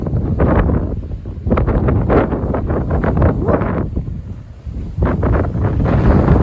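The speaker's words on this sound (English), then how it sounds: "And there is the wind. Right on top of us." Strong gusts of wind arrive outdoors with an incoming weather front, roaring and buffeting close to the microphone in loud, uneven surges.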